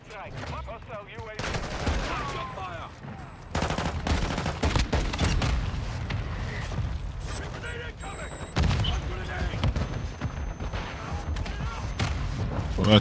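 Rapid gunfire and pistol shots from Call of Duty: Modern Warfare 2 Xbox gameplay, with bursts of sharp cracks and mechanical clatter spread across the clip, and voices talking at times.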